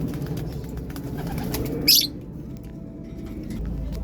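Soft low pigeon coos murmur close by, with a brief high chirp partway through.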